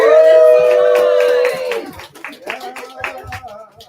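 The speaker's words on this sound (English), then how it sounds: "A big round of applause for everyone here" At an auction night, a loud, drawn-out whooping cheer opens, then fades into scattered, uneven clapping from a small crowd.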